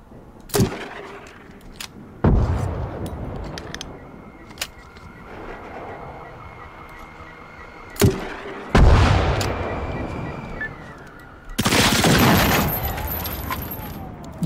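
Heavy cannon and gunfire from the video game Generation Zero booms in several loud, sharp blasts spread across the scene. Long mechanical rumbles and drones sit between the shots.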